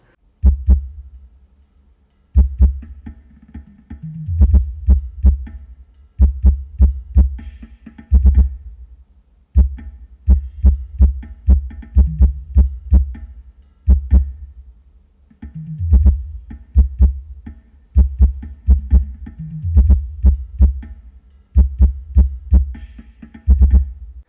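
Deep, booming bass music through a subwoofer with a crossover pulses in steady repeating patterns, heavy low thumps with sharp transient hits on top, loud and continuous.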